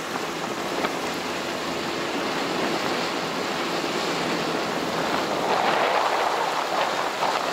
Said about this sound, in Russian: Ветер не успокаивается.